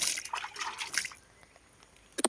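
Water trickling and splashing over stored cassava (tapioca) in a basket, a brief close pour with drips that fades out, then a couple of sharp splashes at the very end.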